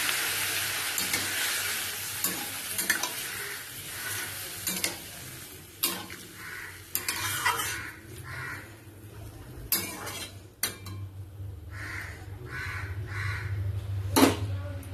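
Taro curry simmering and being stirred in a pot after water is added, with intermittent metal spoon scrapes and clinks over a low bubbling sizzle, plus faint background sounds between strokes.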